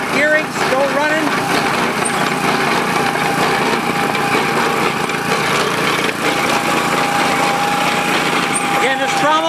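A mining trommel at Iowa Hill, driven by a 5.5 horsepower Honda motor through a gear reduction unit, runs with a constant high, buzzy small-engine whine and steady mechanical rattle, close and loud throughout.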